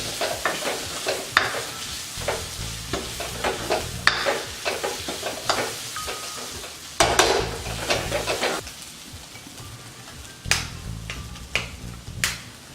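A beaten egg fries in a pan for egg bhurji while a spoon stirs it, with repeated scraping strokes and clacks over a continuous sizzle, loud and close.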